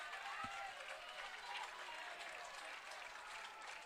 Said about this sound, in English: Whitecap fans in the crowd, on their feet right now, starting to clap it up for Dale Stanovich.